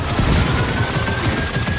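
Lancer assault rifle from Gears of War 4, firing in a burning building, gives a steady, dense burst of rapid automatic gunfire that runs loud and continuous for the whole moment with no talking.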